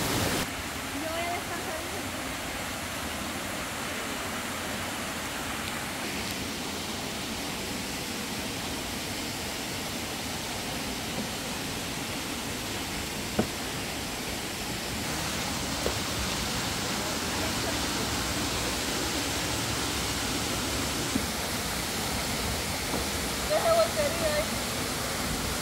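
A waterfall in El Salvador, the second cascade along a hiking trail, pours in a steady broadband roar that holds throughout, with faint voices in the background.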